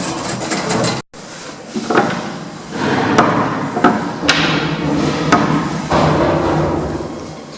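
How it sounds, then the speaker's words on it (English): Lift doors open in the Eastfields shopping centre: a series of mechanical clunks and knocks, with one sharp thump near the start and further clicks and rattles spread over several seconds, fairly loud and close. "Doors opening."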